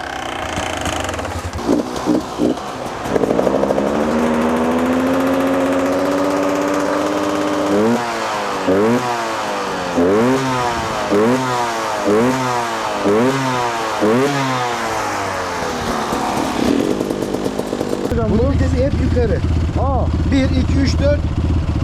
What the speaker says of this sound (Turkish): İki zamanlı motorlar olduğu için birazcık çalıştırırken gaz vermek ister.